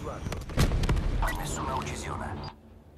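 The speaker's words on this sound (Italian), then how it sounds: "Voglio il mio bombardamento orbital." Orbital bombardment strike in Call of Duty: Black Ops 3 on PS4: a couple of sharp booming blasts followed by a rumbling roar that cuts off abruptly, with a voice talking over it.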